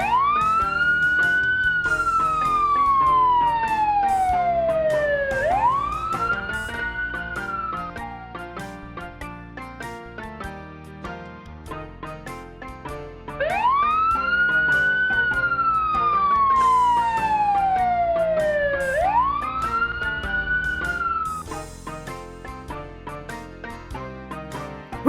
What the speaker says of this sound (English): Vintage fire department vehicle.